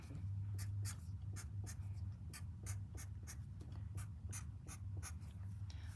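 Pen drawing long eyelashes on paper: a rapid series of short, evenly spaced scratchy strokes, close and clear over a low steady hum, with no voices.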